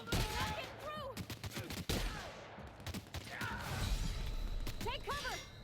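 Gunfire and shotgun blasts in The Outer Worlds during a side-quest firefight, loud bursts and cracks scattered through the fight while game characters shout over the chaotic combat noise.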